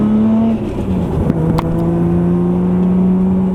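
A 900+ hp right-hand-drive Nissan R34 GT-R with its RB26 engine revving loud and close, a steady droning tone holding and shifting pitch slightly with no talking.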